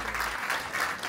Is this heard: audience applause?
yes